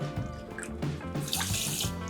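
Water runs steadily from a tap as half a cup is measured out for sugar syrup in a home kitchen, a continuous close splashing stream with light gurgles and no talk.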